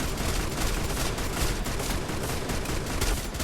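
Rapid nonstop gunfire in the Free Fire battle royale game, dense overlapping bursts of automatic shots filling the whole stretch, loud and continuous without speech.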